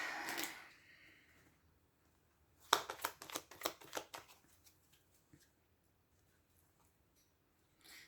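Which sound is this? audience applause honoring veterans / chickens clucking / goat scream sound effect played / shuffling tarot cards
shuffling tarot cards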